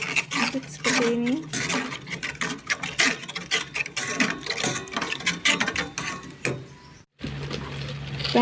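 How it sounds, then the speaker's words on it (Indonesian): A spoon stirs a mixture of palm sugar, oyster sauce, soy sauce and a little water for quail-egg sate bacem, making quick repetitive scraping and clinking taps in a pan, with talk over the stirring. "Aduk seperti ini."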